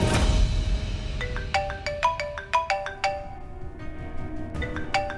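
A melodic electronic phone ringtone plays a repeating chime pattern of bright tones, fairly loud and close, with no voices.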